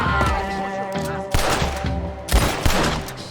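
Gunfire in the video game Red Dead Redemption 2, a few loud close shots cutting through a sustained musical and ambient background.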